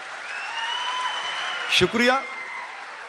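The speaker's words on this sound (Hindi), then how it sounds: "पूरा सदन ताली से गूंजना चाहिए था दोस्तों" Audience applause at an Urdu mushaira in Ichalkaranji forms a steady wash of clapping, and a voice briefly speaks over it partway through.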